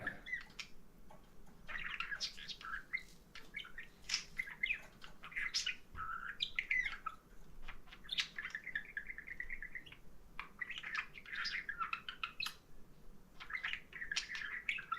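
Pet birds Kiwi and Pixel chirp and tweet from their cages in a string of quick, bright calls and short squawks, fairly faint and close, with no talking over them.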